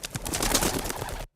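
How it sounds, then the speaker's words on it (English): Pigeons or doves coo indoors with a soft, continuous murmuring call that stops abruptly at the end. "There's birds in here."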